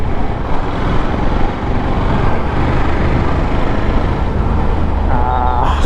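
A motorcycle rides through city streets with a steady, close engine drone mixed with wind and traffic rumble, continuous and without talk.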